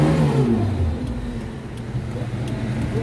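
The engine of a 2001 Suzuki Jimny 4x4 revs loudly and close by, its pitch swelling and easing back as the throttle is blipped.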